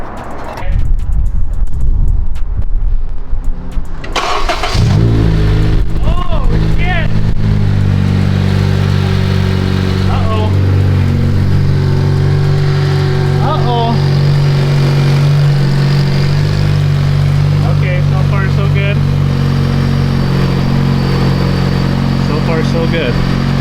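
Turbocharged Honda Civic Si engine on a bagged widebody car catches after a burst of cranking, then settles into a steady, loud idle with a strong low hum; voices talk over it throughout.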